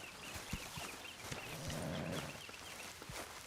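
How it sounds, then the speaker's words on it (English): Horse hooves clip-clop irregularly in Red Dead Redemption, a soft uneven patter of steps at moderate distance over a low rumbling game ambience. "Hey, get that horse out of here."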